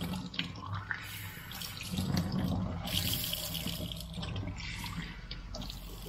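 Water runs from a tap into a sink while a clogged item is rinsed out, a steady close splashing flow with brief surges and no talking.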